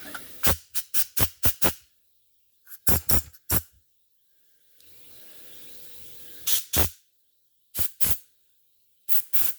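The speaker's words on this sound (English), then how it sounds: "I'll just blow it out with air now." Compressed air blows out a two-stroke engine part in short, sharp hissing bursts, several quick blasts in a row, then a longer steady hiss, followed by more isolated blasts, close and loud.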